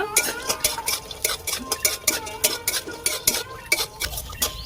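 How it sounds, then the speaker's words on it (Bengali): Rapid, rhythmic scraping and stirring in a metal pan, close and busy, with a light sizzle of lentil dumplings frying in oil beneath the strokes. "বড়িগুলো ভেজে নেব"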